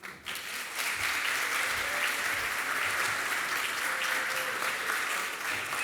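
Sustained audience applause fills an awards ceremony hall, a dense steady wash of many hands clapping at even loudness throughout, with no voices over it.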